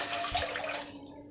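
A vessel of water pours into a large pot, a brief, close splashing gush that fades after about a second, with no voices.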